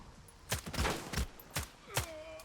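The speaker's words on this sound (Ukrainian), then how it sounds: "Оце стрілянина" Quiet bursts of gunfire in S.T.A.L.K.E.R. 2, several separate sharp shots cracking out in a loose, uneven rhythm.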